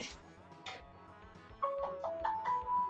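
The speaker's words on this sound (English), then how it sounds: "Oh, I got a phone call now." A phone ringtone sounds during mobile gameplay, a short rising melodic tone sequence entering over quiet game sounds, faint and close.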